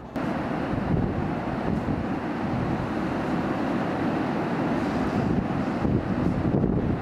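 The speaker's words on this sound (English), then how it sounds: "waves crashing all around" Waves crash and surge continuously around coastal rocks, a dense, loud wash of surf mixed with wind buffeting the microphone, and no voices are heard.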